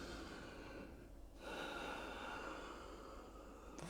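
Deep, steady breathing during a yoga backbend (Urdhva Dhanurasana, full wheel pose): slow, close inhales and exhales, with a soft pause and a sharper breath near the end, no talk.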